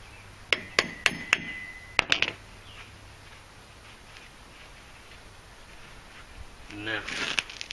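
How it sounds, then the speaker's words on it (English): A few sharp metallic taps from a hammer on a skid steer hub fitted onto an axle stub shaft in quick succession, then a couple more, followed by quiet room noise and faint handling sounds. "Did I really need to tap on that with a hammer?"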